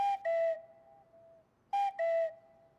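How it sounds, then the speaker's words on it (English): A cuckoo-style car horn in Forza Horizon 5 plays two clean two-note calls, each a short high tone falling to a longer lower one, separated by a pause and sounding clear and isolated. "the Cuckoo car horn, which sounds a bit like this."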